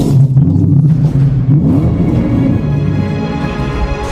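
A car drives at night with a steady, loud engine rumble and rising revs, the drone continuous and close throughout with no talking.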